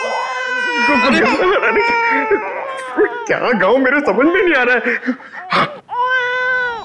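A crying baby in a drama scene, wailing in repeated high, strained bursts close to the microphone, with a voice speaking over and between the cries.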